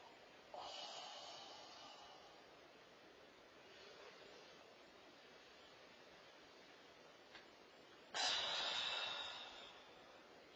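Soft breathing during Chen-style tai chi practice, a faint long airy exhale near the start and a stronger, louder breath out near the end, otherwise quiet.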